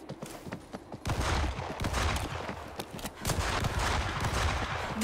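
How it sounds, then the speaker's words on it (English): Gunshots crack repeatedly in World War Z, firing in dense, rapid bursts throughout, close and loud, with sharp repeated transients over a steady noisy backdrop; no voices. "Those shots came from the highway"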